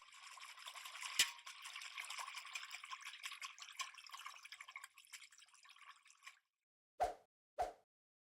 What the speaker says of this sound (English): Now add the proper amount of sodium metabisulfite and mix it up.